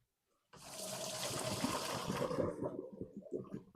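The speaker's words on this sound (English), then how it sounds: "So I'm pouring this through a strainer." Liquid pours through a kitchen strainer, starting abruptly as a close, steady splashing gush that keeps running to the end with slight gurgling fluctuations, and no talking over it.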